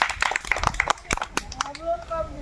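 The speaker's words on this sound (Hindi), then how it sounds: "ताली बजाइए" A crowd watching a street magic comedy act claps in quick, scattered sharp claps close by. Someone talks loudly over the clapping.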